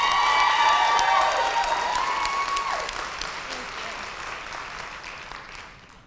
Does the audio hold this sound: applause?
yes